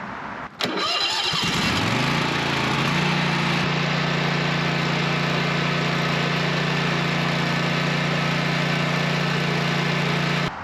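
A Toro Timecutter lawn mower engine cranks and catches, then settles into a steady, loud idle that runs on without a break.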